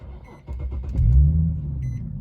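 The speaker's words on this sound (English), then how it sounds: "we're just gonna go ahead and start the car up" A Nissan or Infiniti car engine starts up: a short cranking stutter followed by a low rumbling catch that settles into a steady idle, close by, with brief chimes around it.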